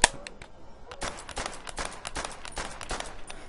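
Gunfire in the video game Call of Duty: World at War, played on PC with a PS3 controller: a rapid string of sharp, fairly quiet shots cracks out in quick bursts, with no talk over it.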